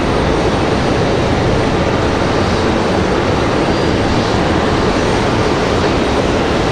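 An airliner, Air Canada or Copa, roars at Raleigh-Durham airport as a loud, continuous broadband jet rumble that holds steady throughout, close and dominant, with no voices.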